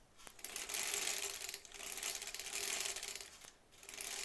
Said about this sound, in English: I'm going to sew till I'm about 1/4 inch away